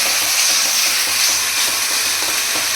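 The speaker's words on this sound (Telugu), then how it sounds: "ఈ అల్లం వెల్లుల్లి పేస్ట్ పచ్చివాసన పోయే వరకు ఫ్రై చేసుకోవాలి" Ginger garlic paste frying in a pan for chicken keema fried rice, a steady close hiss and sizzle of hot oil with faint stirring, no voices.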